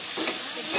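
Chicken sautéing in an oily pan with spices, a close, steady sizzle with faint stirring.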